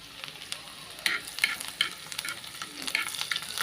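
Cumin seeds sizzling in hot tempering oil for kadhi, a close, steady crackle with sharp popping bursts scattered throughout and no voices.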